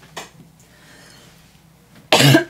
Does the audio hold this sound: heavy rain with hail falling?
no